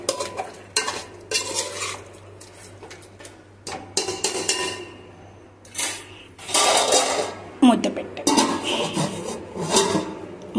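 Chicken and salt are stirred in a metal cooking pot, with repeated scraping and clanking of a spoon in irregular bursts, close and fairly loud over a faint steady hum.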